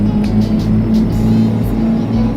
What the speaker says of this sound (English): Alright, so I got the engine brake on now.